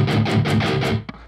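Distorted electric guitar strummed without left-hand muting: a loud, close burst of rapid ringing strums lasting about a second, then a short final scrape before stopping, with no speech.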